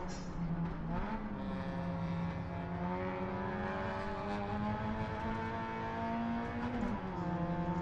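Race car engine droning steadily during a race, heard continuously from inside, with pitch dips and rises as gears change from second into third.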